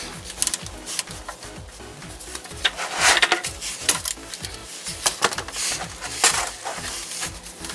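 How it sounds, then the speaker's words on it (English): A 17 mm socket on a ratchet loosens the oil drain plug of a Kia Forte or Soul with a 1.8 or 2.0 engine, giving a steady run of rhythmic ratcheting clicks, close and fairly quiet, with no talking. "So 17 millimeter socket, and we'll remove the oil plug now."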